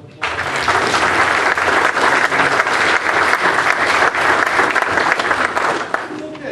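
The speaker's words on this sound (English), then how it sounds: "Let's give them all a round of applause" Sustained, dense applause fills a city council chamber for appointed city board members, many hands clapping steadily at full volume for about six seconds after a sharp start, with faint voices mixed in.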